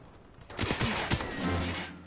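Gunfire in a first-person shooter video game: a few sharp, close shots and bursts from about half a second in, then a rougher sustained stretch of fire, loud and dense with no talking.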